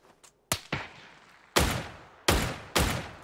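Gunshots in the game PUBG: a few loud, sharp bursts in quick succession, each with a booming tail, close and alone.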